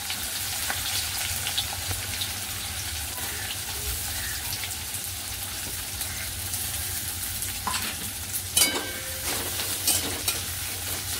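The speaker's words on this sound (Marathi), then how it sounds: "आता आपण ज्या तेलामध्ये काजू तळून घेतलेत ना, त्या तेलामध्येच हे 2 कांदे आपण फ्राय करून घ्यायचे" Two onions frying in oil left from frying cashews for kaju masala, a steady close sizzle with occasional stirring scrapes.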